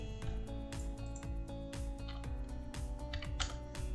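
Rapid, close keystrokes on a computer keyboard while entering an expression in Houdini, typed in an even, continuous rhythm.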